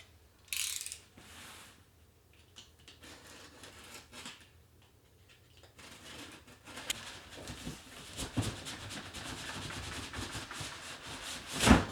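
Cardboard and plastic packaging of a 4moms MamaRoo baby swing being torn and opened, with scattered close rustling, scraping and ripping bursts that grow busier and louder toward the end.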